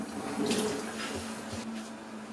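Cold water runs steadily from a tap and splashes into a pot over carp heads, a soft continuous pouring sound at close range.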